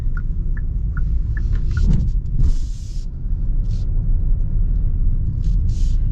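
A 2024 Hyundai Kona Limited cruises at partial throttle, a steady low road and engine rumble filling the cabin with a few faint clicks and soft whooshes passing over it.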